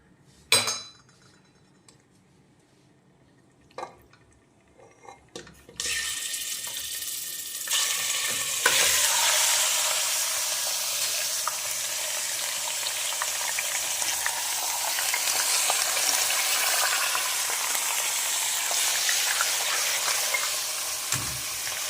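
Mutton fries in a pan with little oil, starting with a few scattered clinks and scrapes, then settling into a loud, steady sizzle with occasional metal stirring knocks throughout.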